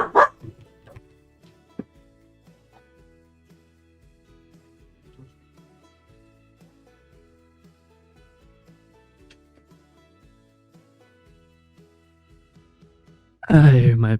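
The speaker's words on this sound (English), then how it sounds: "Spike always barks when someone's at the door" Spike the dog barks at someone arriving at the door, a quick burst of loud, close barks at the very start and again at the end, with quiet rustling and faint sounds in between.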